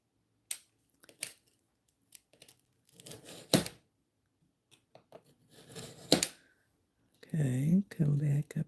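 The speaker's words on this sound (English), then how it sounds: "There you go, dragging the paper instead of cutting." Scissors drag through and tear paper in a series of short, quiet rasping bursts with pauses between them, close by, followed by a brief voice at the end.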